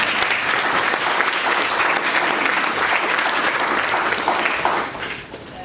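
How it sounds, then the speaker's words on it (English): Sustained applause fills a hall at the Africa Day session of the High-Level Political Forum on Sustainable Development. Thick, even clapping from a large audience carries for several seconds before tapering off. "I'd kindly like to invite you to give another round of applause"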